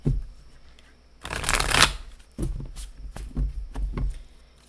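A deck of tarot cards is shuffled close by in several quick riffling bursts with soft taps between them, and no voices.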